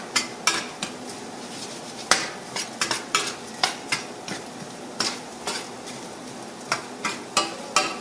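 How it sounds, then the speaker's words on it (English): Potatoes and pepper are stirred in a hot sizzling pan, with a steady frying hiss under repeated sharp clinks and scrapes of a utensil against the pan, arriving in an irregular rhythm close by. "It will smoke a little bit because the pepper's hitting the pan."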